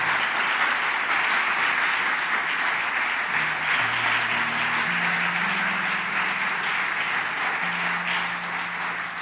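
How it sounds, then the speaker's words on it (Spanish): A church congregation claps in praise during a Spanish-language service, dense continuous applause, loud and steady, with a low sustained organ or keyboard line rising underneath. "¿Le podemos dar un fuerte aplauso al Señor,"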